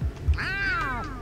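Gary the snail from the SpongeBob SquarePants: Battle for Bikini Bottom – Rehydrated video game gives one drawn-out, rising and falling cartoon meow, loud and close over faint low background sound.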